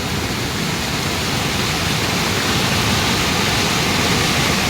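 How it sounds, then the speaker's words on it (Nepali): Heavy monsoon rain pours over a flooding stream in Nepal's Himalaya, a steady, loud, dense roar of water that fills the whole clip with no voices. "खोला आएर हेर्नुहोस् त पानी परेर बहुत हेभी रेनफल"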